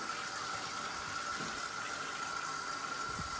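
Tap water pours steadily into a kitchen sink filling with dishwater, a constant close hissing rush with no pauses throughout.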